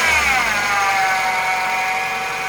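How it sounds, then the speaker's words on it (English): Toyota Starlet engine idling with a noisy air conditioning compressor, a steady close mechanical drone with a faint high whine running through it and no talk. "So it's got a noise in the air conditioning pump"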